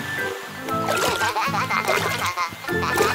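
Watery splashes and gurgles from a cartoon fountain play over a bouncy musical background in a short, busy burst.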